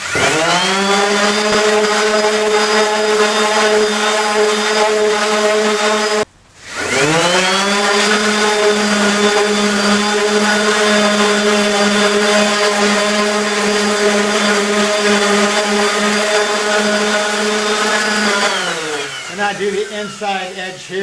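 A power sander on cabinets whines steadily at close range, cutting out briefly once before resuming, then wavering as it winds down near the end.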